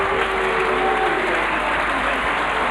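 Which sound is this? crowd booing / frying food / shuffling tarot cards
crowd booing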